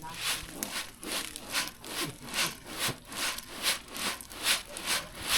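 Sand being sifted through a screen to remove the bigger stones, a rhythmic, scraping rasp repeating about twice a second, close and steady with no voices.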